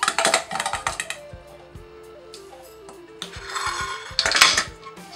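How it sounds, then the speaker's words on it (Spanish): Crushed garlic and potatoes go into a bowl in a home kitchen, with sharp clinks and clatters of utensils against the dish in bursts at the start and near the end, quiet between. "Vamos a poner ahora en un bol este ajito machacado, estos dos dientecitos de ajo. Le vamos a agregar las patatas."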